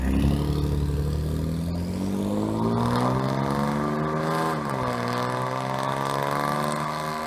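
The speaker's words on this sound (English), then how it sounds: "it's the new Corsa cat-back exhaust system with the stainless works downpipes" A 2014 Ford Taurus SHO fitted with a Corsa cat-back exhaust and Stainless Works downpipes revs steadily, its loud raspy engine note rising in pitch, dipping briefly and climbing again.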